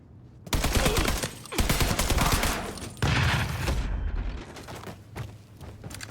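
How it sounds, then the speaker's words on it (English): Heavy, booming blasts and rapid gunfire in the game Mafia 3 fill the air, with loud explosive bursts around one and three seconds that decay into rumbling echoes and scattered shots. "Grenade in. A fucking grenade? Pitching one low and inside."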